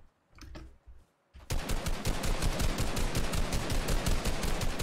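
Rapid automatic gunfire from a video game, a dense continuous burst of shots that starts after a brief pause and runs steadily at full loudness through the rest.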